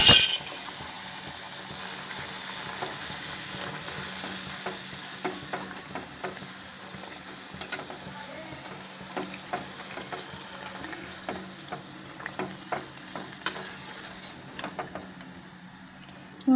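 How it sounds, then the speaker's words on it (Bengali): Luchi, puffed flour flatbreads, frying in hot oil, with a steady low sizzle and scattered bubbling crackles, plus occasional light clinks of a utensil against the pan, no voices. "বন্ধুরা তেল গরম হয়ে গেছে, লুচিগুলো ভেজে নিতে হবে।"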